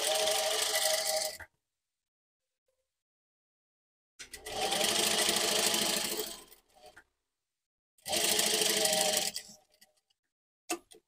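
A sewing machine stitching piping onto an organza lace neckline runs in three bursts, a fast rattling whir of about a second and a half, then two longer runs, separated by silences and ending with a short click.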